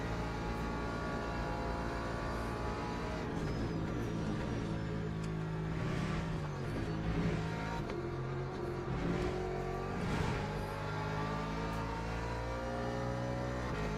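A Daytona GT3 race car in Le Mans Ultimate drones steadily from the cockpit, its engine pitch rising and falling as it revs and downshifts, a continuous close mechanical roar with no talking.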